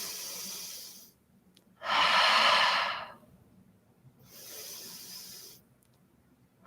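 Slow, deep yoga breathing, with a loud, airy inhale-like rush followed by a softer, longer exhale, each breath standing alone in an otherwise quiet room.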